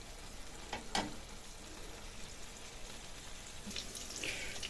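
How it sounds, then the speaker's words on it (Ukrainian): Even hissing sizzle of cutlets frying in an uncovered pan, with a couple of sharp pops and clicks near the start, close up and without speech. "з другої сторони можемо смажити вже без кришки"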